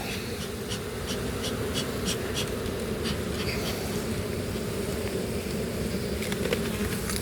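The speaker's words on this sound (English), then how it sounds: "let's save a few bees from getting smashed" Honeybees buzz in a steady, dense drone around an open Kentucky hive as boxes are lifted apart during a spring inspection, with faint knocks and scrapes of equipment nearby.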